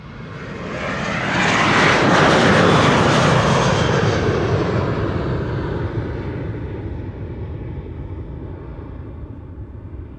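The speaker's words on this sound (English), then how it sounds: "This is KLM Flight 1137 to Dublin in Ireland, a" KLM Boeing 737-800 airliner bound for Dublin passing at Amsterdam Schiphol Airport, a loud broad engine roar that swells over the first seconds, peaks, then slowly fades as the jet moves away, with no voices.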